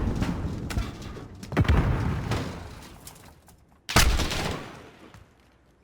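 Bursts of gunfire and heavy booming impacts from a 1v1 video game gunfight, rapid shots ringing out with two sharp loud blasts and decaying rumbles, no voices over them.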